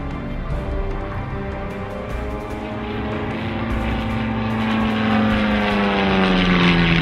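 Propeller plane performing aerobatics at an air show, its engine droning steadily with a rising, shifting pitch as it rolls and spins overhead, growing louder toward the end.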